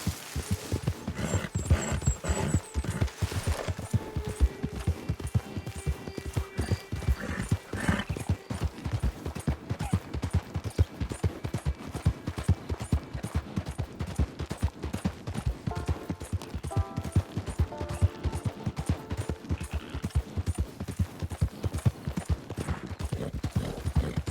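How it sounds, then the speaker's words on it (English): A skinny horse in the Red Dead Online game gallops with fast, steady hoofbeats that clatter rhythmically and up close for the whole stretch, with a brief whinny mixed in. "Horse sounds like it's about to clap"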